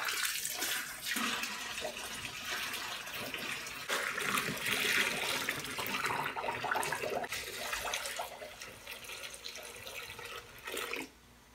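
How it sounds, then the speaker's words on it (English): Water pours steadily and splashes into a bucket, a continuous rushing that fades out near the end with a small knock. "I just want to put enough water in here to submerge the whole thing."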